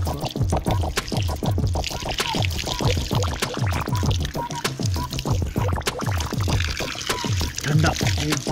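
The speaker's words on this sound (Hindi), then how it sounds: "ये पहाड़ से निकल रहा पानी," Cold, clear spring water flowing out of a mountainside, a steady close pouring and splashing stream that continues throughout, with a voice talking over it.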